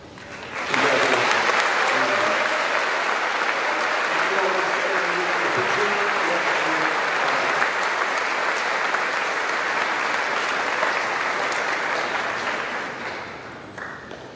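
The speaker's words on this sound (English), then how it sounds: "we're going to give you a round of applause" An audience at a high school awards ceremony breaks into sustained applause, dense clapping that starts suddenly, holds steady for more than ten seconds and then tapers off, with faint voices mixed in.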